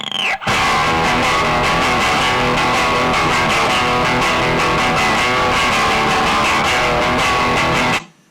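Heavily overdriven electric guitar, driven further through a cranked console preamp, chugging in a steady rhythm, loud and saturated from start to finish, with no talking.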